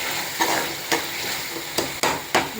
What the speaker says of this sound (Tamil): இப்போ 4 பச்சை மிளகாய் போட்டு கொஞ்சம் நல்லா வதக்கிடுவோம்.